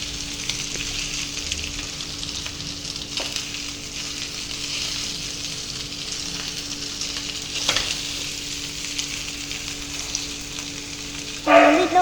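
Majestic chicken fries in oil with a steady, even sizzle, occasional stirring clinks and scrapes, and a louder burst of crackle near the end; no one speaks.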